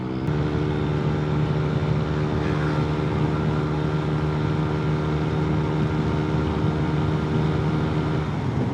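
A motorcycle engine with an aftermarket TRC Racing Powerpipe exhaust drones loudly and steadily at a constant pitch, a deep raspy exhaust hum sustained throughout without letting up.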